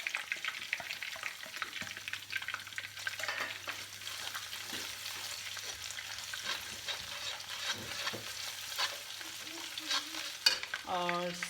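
Ginger hits a hot wok for hakka noodles and sizzles steadily, frying loudly and close throughout with intermittent stirring and scraping.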